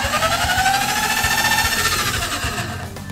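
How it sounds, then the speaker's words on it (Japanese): Power drill boring pilot holes into wood panelling for a van ceiling, a loud continuous rough motor whir with rhythmic chattering, close and steady before easing off near the end. "ドリルで下穴開けてからビスで止めたいと思います。"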